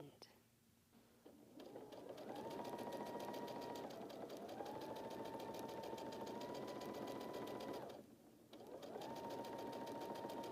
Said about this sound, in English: I'm going to line this up here, and I'm going to start sewing at this end.